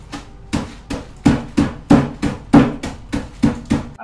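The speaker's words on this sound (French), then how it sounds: "Je vais donc prendre mes amarettini que je vais venir placer dans un sachet et tout simplement venir casser au marteau." Amarettini biscuits sealed in a bag are crushed with a hammer, giving about eleven sharp, close blows at a steady, slightly irregular rhythm, each with a brief crunch, and no talking.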